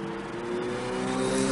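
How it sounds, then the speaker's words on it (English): Traffic on a busy street outside a home, a steady roar of passing vehicles with an engine drone rising slightly, continuous and moderately loud with no talk. "I'm so sorry about the traffic noise."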